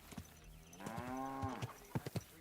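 A cow gives one long, low, drawn-out moo in the medieval game Kingdom Come: Deliverance II, close and clear, with hollow thumping footsteps before and after it.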